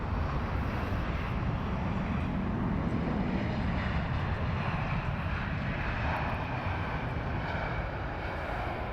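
A Boeing 747 at Heathrow Airport, under tow, is heard as a steady, broad jet roar with airy rushing noise, continuous and moderately distant, with no voices over it.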